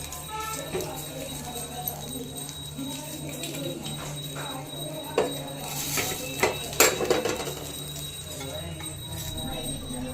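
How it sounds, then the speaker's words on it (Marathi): Garlic, chillies, onion and spices roasting together in a pan for a mushroom curry, heard as metal clinks and scraping stirs over a low steady background, with a few sharper knocks midway. "त्यात बरोबर लसूण मी त्याच्यामध्ये टाकलेला आहे भाजायला मिरची पण टाकून दिलेली आहे आणि आपण कांदे पण त्याच्यामध्ये सोडून द्यायचे सर्व एकत्र मस्त भाजून घ्यायचं"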